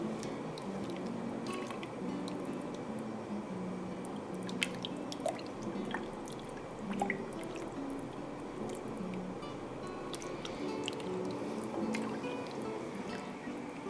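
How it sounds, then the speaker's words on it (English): A pot of Italian potato soup bubbles gently at a low simmer, with soft, steady plops and liquid squishes close by and nobody talking. "I'll let this come to a gentle boil and it will be finished."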